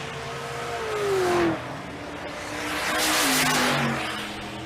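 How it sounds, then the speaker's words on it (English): A 1969 Camaro drag racing in the left lane at a drag-and-drive event roars past with rising engine revs, two loud surges with gear-change drops, tire noise and a passing whoosh, no talking. "Joey Moore in the 69 Camaro on the left lane."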